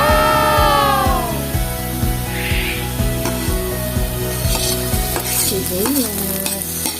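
Onions and garlic fry in a pan while being stirred, a close sizzle with rhythmic scraping strokes of a utensil against the pan, under background music with no talking.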